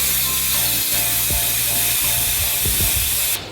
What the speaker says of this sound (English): I'm going to spray this one quite thick, maybe 4 to 5 inches away from the actual frame while spraying